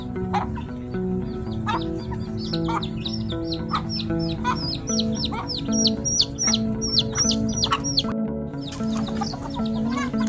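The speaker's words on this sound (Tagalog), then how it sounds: "nandito tayo ngayon nagpapakain ng aking manok" Four backyard chickens being fed, giving repeated close clucks and short calls in an irregular rhythm, with bird chirps mixed over a steady background hum.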